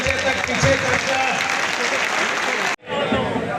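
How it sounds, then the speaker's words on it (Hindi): A large rally crowd in Vidisha gives a loud, thick round of welcoming applause that holds steady for several seconds, then breaks off abruptly before a quieter burst resumes. "एक बार जोरदार तालियों से उनका स्वागत करें"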